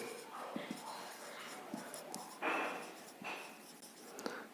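A pen or marker writing a sign scheme on a board in a quiet room: soft, scratchy strokes and short taps come in bursts, with a faint voice murmuring at times.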